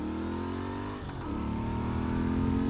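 A 2016 Moto Guzzi V7II Stornello motorcycle engine rumbles through its right-side aero exhaust, a steady mid-pitched drone that dips briefly and then climbs slightly as the revs rise, close and continuous.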